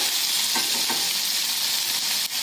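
Mixed vegetables sauté in a kadhai for pulao with a loud, continuous, close sizzle, broken by a couple of soft utensil knocks early on.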